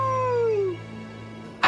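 A cartoon wolf gives a long, gliding howl that slides downward and fades, followed by a short sharp yip or bark at the very end; alone and fairly loud.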